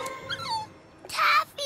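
A cartoon puppy whimpers and yips in distress, stranded near water in a children's animated adventure; a few short high cries sound close, with a louder burst of yelping toward the end.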